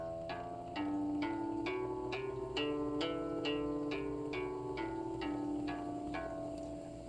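An E Phrygian scale is played note by note, about a dozen evenly spaced plucked notes stepping up and back, soft and close with sustained ringing and no voice.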